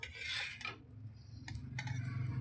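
Cutlery and dishware clatter as a freshly made sandwich is served onto a plate in a home kitchen, a loud scraping burst at the start followed by lighter clinks and taps, with no talking.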